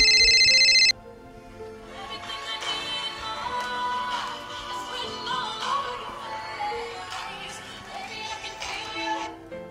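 A phone rings for an incoming call, starting with a loud electronic ringtone burst that cuts off after about a second, followed by a softer melodic tone sequence continuing underneath.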